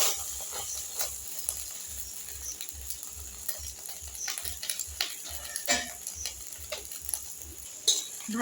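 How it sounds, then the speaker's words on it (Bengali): Patishapta batter frying in a little oil in a pan, a close steady sizzle with repeated stirring or scraping scrapes and light utensil clinks, no talk. "এবার সামান্য তেল দিয়ে ভেজে নেব।"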